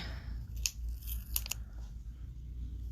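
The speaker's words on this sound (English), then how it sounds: "I'm gonna have to unwrap it though." Wrapped roll being unwrapped: a few sharp crinkling, tearing bursts of wrapper material, close and fairly quiet, separated by short pauses over a low background hum.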